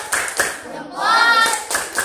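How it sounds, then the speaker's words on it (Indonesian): Schoolchildren in a classroom perform a rhythmic clapping cheer, a handful of sharp group claps spaced at regular beats with a sustained chanted vocal between them. "Tepuk salut."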